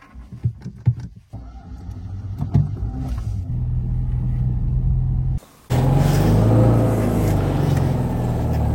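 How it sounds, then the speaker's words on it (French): A 1987 Citroën Visa Club with a 650cc 2CV twin-cylinder engine starts with uneven bursts and then settles into a rising, buzzy drone as it drives off. A short drop comes before a louder, rougher stretch of road and engine noise. "Et on est parti du coup pour essayer cette magnifique Visa, donc avec le fameux moteur de 2 chevaux, Visa Club."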